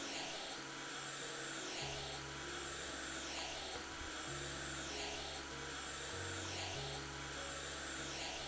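A vacuum cleaner in the House Flipper video game runs as a steady loud drone for the whole stretch, its low hum shifting pitch a few times as the nozzle moves.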